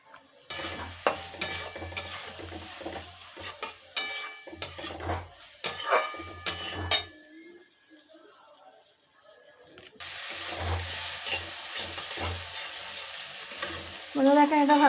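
Vermicelli and egg mixture with tomato sauce being stir-fried in a pan, a spatula scraping and clattering in bursts over steady sizzling, with a brief quieter stretch midway before the frying resumes loudly.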